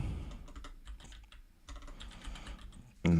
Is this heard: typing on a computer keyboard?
yes